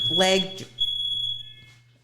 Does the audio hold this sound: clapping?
no